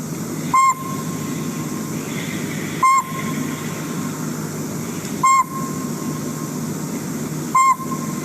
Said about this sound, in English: And so I have a sound clip of the pygmy owl here that I'm just going to play quickly.